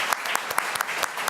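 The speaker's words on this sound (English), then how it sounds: "Let's give former Senator Chip Shields a round of applause." Audience applause for former Senator Chip Shields at a foster care summit in Oregon, a dense run of quick, overlapping claps at moderate volume with no talk.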